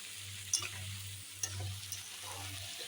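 Chicken and whole green chillies fry in a pan with a soft, steady sizzle, and a spoon stirs them with a couple of quick, close clinks and scrapes. A low hum runs underneath and no one speaks.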